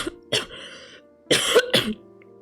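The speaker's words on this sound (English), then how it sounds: "That's good because I wanted to cough too." A character in the video game Love and Deepspace coughs, two short close bursts followed by a louder double cough, clear and dry with brief silences between.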